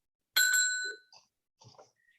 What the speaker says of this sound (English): Lisa, could you ring that bell for us so that we know what it sounds like?